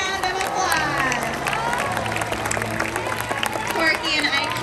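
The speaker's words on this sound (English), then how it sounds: "Everyone give them a round of applause." A SeaWorld San Diego orca show audience applauds and cheers in a broad, steady wash of crowd noise lasting several seconds, with a voice carrying over the clapping.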